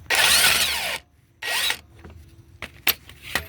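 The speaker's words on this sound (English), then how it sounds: "I'm going to use my impact on this side" A cordless impact wrench rattles on the strut nut of a 2011 BMW 535i 3.0L during a driver side strut replacement, two sharp hammering bursts close by, followed by clicks and clanks of tools.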